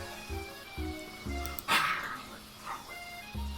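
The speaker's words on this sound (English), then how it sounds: "He begins barking uncontrollably at the squirrel outside" A dog barking repeatedly in a steady rhythm of short, moderately loud barks, with a brief higher-pitched whine or yelp in the middle.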